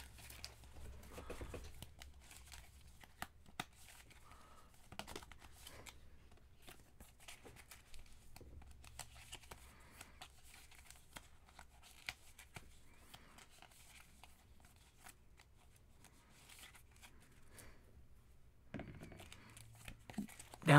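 Cards for a solo Maquis board game are shuffled at a table, giving soft, irregular riffling and papery patter that continues quietly with no talk.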